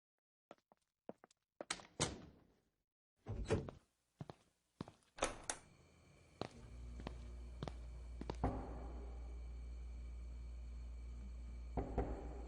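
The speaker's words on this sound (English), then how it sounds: "Here's a knocking indeed." Sharp door knocks for a Macbeth audio drama, scattered clusters of thuds and taps over several seconds, followed by a low steady hum with a few later knocks and no talk.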